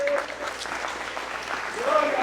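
Steady applause from a church congregation fills the clip, with a preacher's voice speaking over the clapping.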